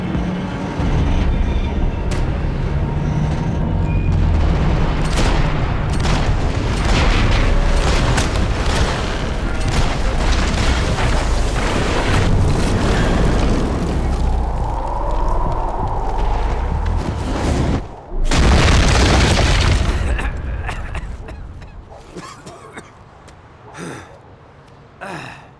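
Max Payne 3 combat plays out as a dense, loud wash of gunfire and explosion rumbles. A heavy blast bursts out about three-quarters of the way through before the noise thins to scattered, quieter hits.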